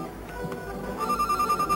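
A telephone rings in a 1980s office setting, its electronic trill starting partway through and repeating in quick regular pulses over a soft background of murmur.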